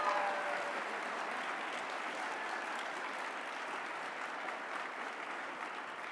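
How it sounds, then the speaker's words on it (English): Steady applause from an awards ceremony crowd, a smooth, even wash of many hands clapping at moderate distance, slightly stronger at the start and holding level throughout. "let's give Clara a round of applause."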